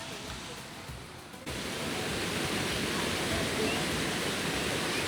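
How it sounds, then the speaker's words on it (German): Water splashes and rushes steadily at a children's water playground, a broad continuous hiss that grows louder after a moment, with faint voices in the background. "so ein Wasserspielplatz"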